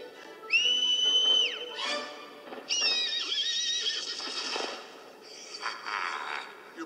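The winged horse Pegasus gives two long, loud whinnies with shrill rising and falling tones, followed by snorting and shuffling movement. Nobody speaks.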